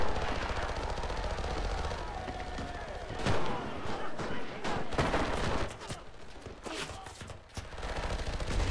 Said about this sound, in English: All about machine guns.